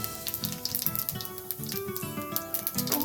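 Cumin seeds crackling and sizzling in hot oil in a kadai, a steady close hiss spattered with quick pops.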